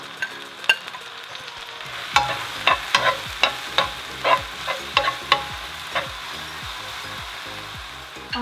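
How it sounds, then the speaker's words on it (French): Chopped onion sizzling in butter in a pan, a steady frying hiss broken by a run of distinct scraping stirs from the spoon, with no talking. "Et je vais faire revenir le tout dans le beurre pendant quelques minutes."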